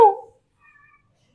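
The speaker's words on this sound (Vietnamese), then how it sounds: "Ồ mèo" A cat gives one short, loud, close meow, followed by a faint, thin trailing sound, then silence.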